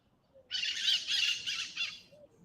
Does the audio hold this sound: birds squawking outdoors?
yes